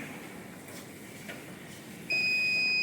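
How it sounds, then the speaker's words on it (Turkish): A gas sensor's buzzer in a smart home automation project sounds a steady, piercing electronic tone that starts abruptly near the end and holds continuously over a quiet background hiss. "gaz sensörü çok gaz algıladığında buzzer'dan ötüyor"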